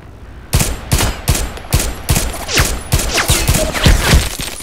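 A weapon in the Contract Wars shooter fires in single-shot mode: sharp, loud cracks come one after another in a quick, fairly even rhythm, about a dozen shots with short echoing tails and no talking.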